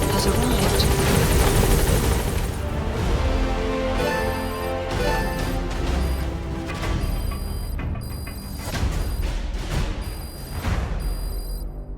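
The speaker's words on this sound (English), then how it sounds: "Support helicopter has arrived." Support helicopter arriving in the video game Metal Gear Solid V: The Phantom Pain, a loud, close rotor thump with a roaring engine that holds steady throughout, joined by a few sharp bursts of gunfire.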